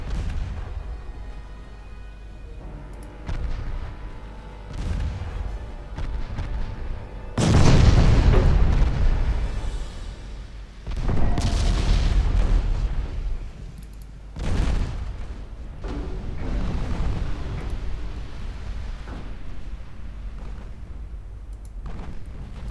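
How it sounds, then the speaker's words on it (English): Heavy 8-inch naval guns firing armour-piercing shells in the naval game Ultimate Admiral Dreadnoughts: repeated deep booming salvos spaced several seconds apart over a low rumbling background, the loudest blast near the middle. "Let's get the 8-inch guns on this guy. And you're definitely going to be firing AP"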